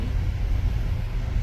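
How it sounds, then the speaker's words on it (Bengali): The engine of the MV Sundarban-12 passenger launch on the Jhalokathi to Dhaka river route throbs as a loud, steady low rumble with wind noise, no voices present. "ইঞ্জিন স্লো করে দিলেন তাই না?"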